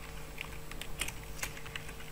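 Quick, light keystrokes tap on a computer keyboard, close and quiet, in short irregular clusters over a faint steady hum.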